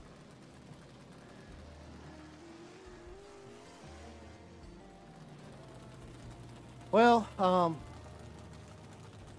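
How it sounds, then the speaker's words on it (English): A car engine roars past in Farming Simulator 22, rising then dropping in two quick loud bursts near the end, over quiet background hum and a brief spoken word. "oh, I hear a car"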